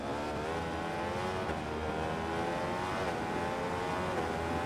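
A superbike engine in the racing game Ride 4 roars steadily, its dense, rising and falling tone suggesting continuous high revs and gear changes throughout, loud and with no talking over it.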